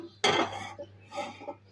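A wide metal pot set down on a lit gas stove, giving one loud close clatter followed by lighter clinks and scraping as it settles.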